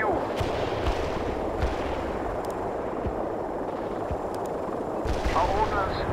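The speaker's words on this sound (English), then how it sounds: "Our ordnance landed on the mark." Artillery barrages thud and crack in the war strategy game World in Conflict, a dense run of booming impacts and sharp reports under continuous battle noise, with radio-style voices talking over it.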